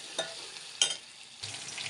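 A spoon stirs a sizzling tempering of oil, garlic paste, curry leaves and onion for lasuni palak, with a soft frying hiss broken by a few scraping stirs, close and without talk.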